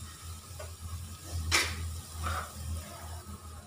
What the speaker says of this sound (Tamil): இப்போ பார்த்தீங்கன்னா இஞ்சி பூண்டு பேஸ்ட் போட்டு வதக்கிட்டோங்க